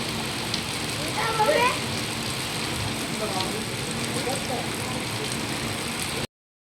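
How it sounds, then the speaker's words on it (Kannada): Rain falls steadily at the onset of the monsoon in a village, a constant soft hiss of drops on surfaces, with a brief faint chirping sound early on. "ಫೈನಲಿ ಮಳೆ ಕೂಡ ಬಂತು"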